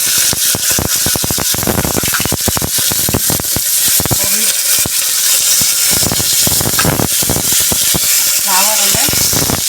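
Valor beans hitting hot tempering of oil with asafoetida and carom seeds, a loud continuous sizzle and crackle with sharp irregular popping bursts, close up, while undhiyu is being cooked.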